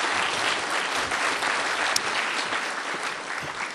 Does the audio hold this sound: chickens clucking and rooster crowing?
no